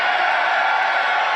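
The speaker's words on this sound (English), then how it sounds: "I'd like a little too much cheering there for my level of comfort" Loud, dense crowd cheering at a political rally, a sustained roar of many voices with whoops, steady and close throughout with no single speaker.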